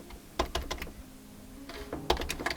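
Typing on a keyboard connected to a Boox Note Max or Go 10.3 e-ink tablet used as a display, with close, irregular clusters of key clicks broken by brief pauses.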